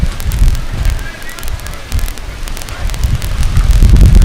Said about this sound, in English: It's been a windy day here at Vanden High School.